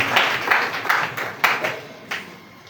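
A church congregation claps in praise of Jesus, with a handful of sharp, uneven handclaps spaced irregularly and fading between strikes.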